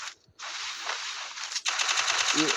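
Rapid automatic gunfire in a shooting video game, a dense loud burst that breaks off briefly and then resumes as sustained continuous firing, with a faint brief voice near the end.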